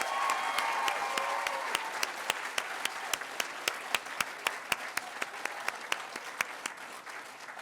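Steady applause from a graduation ceremony audience for departing senior-school graduates, a dense wash of many hands with a few sharper individual claps standing out, moderately loud and continuing without pause.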